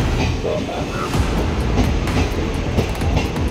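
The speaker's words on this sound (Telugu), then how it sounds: "Narsapur memo second train" A Lingampalli–Narsapur MEMU train runs with a steady, loud rumble and rattle of carriages on rails, continuous throughout with faint voices in the background.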